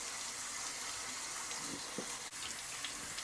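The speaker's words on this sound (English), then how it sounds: "Let's rinse our lentils, get any dirt that might be on there off." Running tap water pours steadily over lentils being rinsed in a kitchen sink, a soft continuous hiss with faint splashes and a brief dip near the end.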